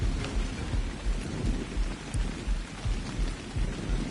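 Steady heavy rain pours in the video game Ark: Survival Evolved while low rumbling thunder rolls underneath in repeated surges, with no voices.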